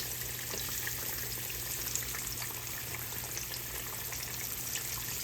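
Yellow squash frying in oil in a pan, a steady soft sizzle and crackle with light bubbling, continuous and fairly quiet with no voices.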